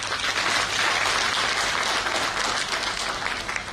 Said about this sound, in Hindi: एक बार जोरदार तालियां हो जाए हमारी सभी सहबरारियों के लिए।